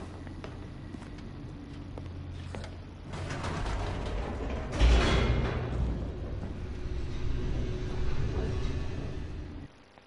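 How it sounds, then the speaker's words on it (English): A descending elevator in The Stanley Parable grinds and creaks with clanking, ratcheting mechanical sounds, swelling into a loud rumbling surge midway and continuing steadily before cutting off abruptly at the end. "The elevator raced downward, plummeting towards an unknown fate."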